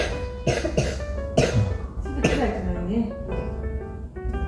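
A child with pneumonia coughs several times in short bursts, with a hoarse, throaty quality and brief pauses between coughs, close to the listener.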